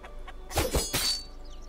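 A chicken in Lost Ark gives a short burst of two or three close, loud clucks, then falls quiet against a faint background hum.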